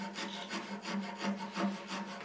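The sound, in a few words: rasp filing a wooden spiral turning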